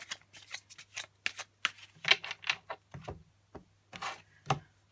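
Tarot cards pulled from a deck during a reading, a series of soft, close card slides and flicks in irregular bursts over a faint low hum.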